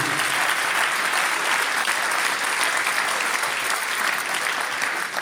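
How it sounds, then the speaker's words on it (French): An audience at a 2023 sports champions awards ceremony applauds, a steady, loud, continuous wall of clapping from a large crowd lasting the whole stretch without a break. "Je pense que vous pouvez vous applaudir."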